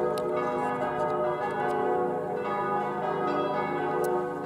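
Church bells in Blotzheim ring continuously, full and resonant, with layered overlapping tolls sustained at a steady loudness throughout.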